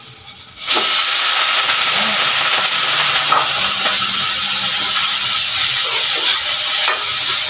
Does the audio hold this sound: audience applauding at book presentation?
no